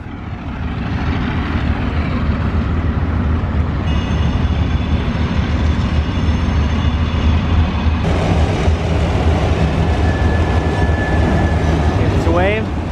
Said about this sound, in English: Henry, this train went right by our house.